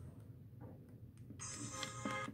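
A Motorola V360 phone ringtone starts partway through, a bright repeating electronic tone with pulses, following a few soft taps and faint background hum.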